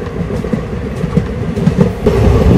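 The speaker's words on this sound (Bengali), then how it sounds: "এখন আমরা ক্রস করছি পেরুমন রেলওয়ে ব্রিজ।" A passenger train on the Kottayam to Trivandrum route rolls across the Perumon railway bridge, a loud continuous rumble with rhythmic wheel clatter heard from inside the carriage, growing heavier toward the end.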